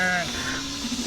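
Sheep being herded on a farm bleat briefly at the start, a short wavering call, then fade under a steady low hum and faint background rustle.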